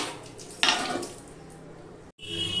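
A metal lid clanks down onto a pot of simmering ridge gourd curry with a single sharp clatter, followed by a low bubbling sizzle close by, with a brief cut and resumed sizzle near the end.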